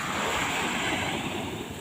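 Surf washing onto a beach on a Caribbean nature island, a steady broadband rush of waves with some wind noise, moderately loud and continuous with no voices.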